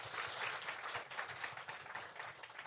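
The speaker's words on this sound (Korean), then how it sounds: "박수 한번 좀 부탁드리겠습니다" A studio audience at a Korean talk show claps in a short burst of applause, fairly faint and slightly uneven, fading toward the end.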